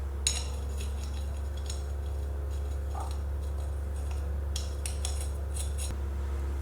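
Lug nuts and wheel studs being fitted onto a Subaru hub re-drilled from 4x140 to 6x5.5: scattered light metallic clinks and rattles in short bursts, close by, over a steady low hum and with no voices.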